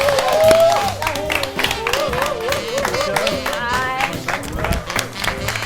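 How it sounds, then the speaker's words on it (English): A studio audience claps and cheers as a guest is welcomed onto a talk show, with whistles rising over the applause in the first seconds, then continued clapping with crowd noise underneath. "Again, wolf whistles from the crowd there."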